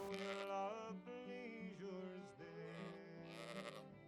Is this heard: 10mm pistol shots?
no